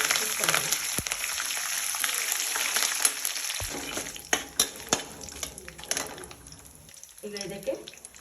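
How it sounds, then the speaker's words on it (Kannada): Peanuts and curry leaves frying in hot oil in a pan for masala chitranna, a steady sizzle with sharp crackles and spatter bursts, punctuated by occasional clinks of a spoon against the pan. "ಕರಿಬೇವಿನ ಸೊಪ್ಪು ಹಾಕ್ತಾ ಇದ್ದೀನಿ"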